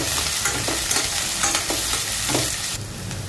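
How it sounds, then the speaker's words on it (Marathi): Sliced onion, cumin and curry leaves sauté in a hot pan, giving a steady, close sizzle with soft scraping stirs running through it and no voices. "कांदा सहसा तांबूस लाल होईपर्यंत परतून घ्यायचा आहे"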